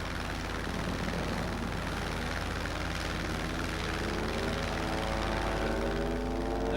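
A helicopter racing against vintage warbirds at the Warbirds over Wanaka air show in New Zealand, a steady distant rotor and engine drone with rising harmonic whine toward the end, no voices.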